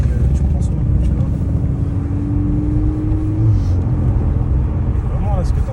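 A Volkswagen Golf 8 R exhaust drones low and steady while the car is driven, with a brief rising tone partway through, heard from inside under the cabin rumble.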